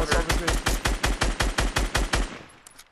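Rapid automatic gunfire in the Fortnite battle royale video game, a burst of about a dozen sharp, evenly spaced shots in quick rhythm, loud and close, trailing off at the end with no talking.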